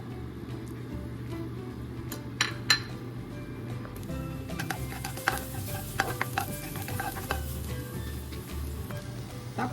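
Garlic hits about a tablespoon of hot oil in a pan for a Pinoy-style beef shawarma rice, sizzling steadily with a utensil stirring and clinking against the pan throughout, close and clear with no talking.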